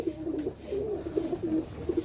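Pigeons bred for tournament flying coo close by in a repeated, soft, throaty rhythm. The overlapping calls continue throughout, over a faint background hiss.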